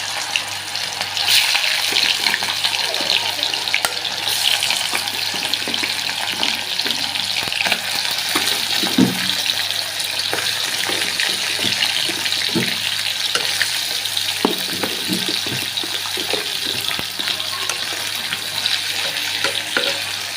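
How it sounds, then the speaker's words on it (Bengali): Meat sizzles loudly and steadily in hot oil for a long stretch, close to the listener, with scraping and clinking bursts from stirring partway through. "তো আমি লাল লাল করে ভেজে নেব"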